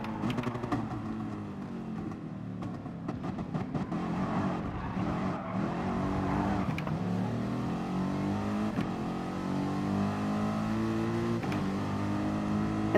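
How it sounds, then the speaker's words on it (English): Engine of an old Formula One race car in Gran Turismo Sport, a loud, continuous revving whine that rises and falls through gear changes, heard alone without talk. "Sounds like one of the old, what they're called? Oh, Formula One racing cars."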